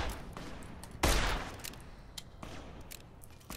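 Gunfire in Fallout: New Vegas, fired from high ground at enemies: one loud close shot stands out, with several softer cracks scattered before and after, and no talking.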